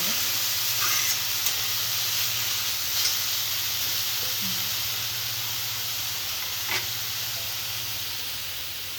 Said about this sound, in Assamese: মই পেটু ভাজি আছোঁ, তেল নায়েই দিয়া, চিলি তেলত প্ৰথমতে পিঁয়াজখন দি পেটুখিনি দিছোঁ।